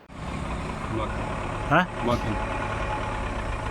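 A tractor engine idles with a steady low rumble outdoors, and a person speaks briefly over it partway through.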